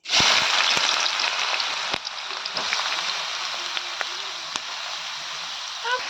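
Vegetable mixture frying in hot oil with dried chili gives a steady, close, loud sizzle with a few sharp pops and crackles throughout, and no talking.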